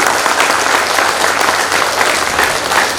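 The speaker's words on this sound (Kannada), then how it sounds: "ನಿಮ್ಮ ಜೋರು ಚಪ್ಪಾಳೆಯ ಧನ್ಯವಾದಗಳನ್ನು" An audience at a formal lecture event claps loudly and steadily, a dense, continuous wash of many hands applauding throughout.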